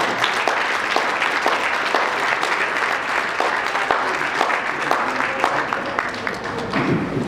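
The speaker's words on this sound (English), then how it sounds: "Please give a warm round of applause as they come." A theatre audience at a Black History Month opening ceremony at the Citadel Theatre in Edmonton gives sustained, dense applause, loud and continuous for several seconds with a faint crowd murmur.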